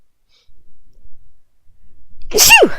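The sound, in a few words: sneeze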